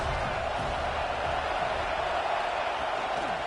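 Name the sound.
football stadium crowd cheering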